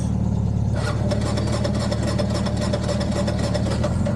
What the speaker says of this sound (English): If I try to start in neutral, she won't start.